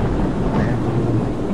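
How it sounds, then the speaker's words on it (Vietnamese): Rain falls outdoors as a steady, dense wash of noise with a low rumbling undertone, loud and continuous throughout with no voices over it. "À, mưa rồi kìa, mưa rồi kìa."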